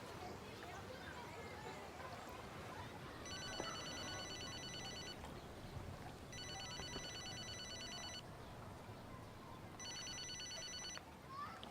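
A telephone rings in three separate high trilling bursts, evenly spaced and fairly faint, under busy background noise and voices.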